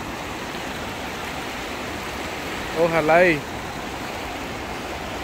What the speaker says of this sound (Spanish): La verdad que está muy bonito acá este río.